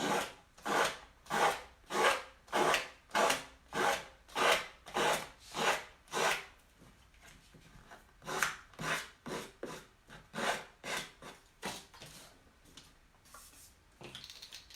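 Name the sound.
nail file sanding paper edge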